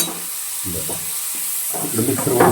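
Cumin seeds and onion hit hot oil for a masala brinjal dish and hiss loudly and continuously, with low bubbling pulses rising underneath toward the end.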